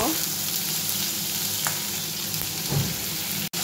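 Cauliflower frying with salt in a pan gives a continuous close sizzle while it is stirred, with soft spatula scrapes and a sharp clack near the end.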